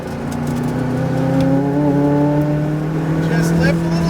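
A McLaren 570 GT4 race car on a track shifts up and accelerates, its engine note holding steady and climbing in pitch, with a voice talking over it.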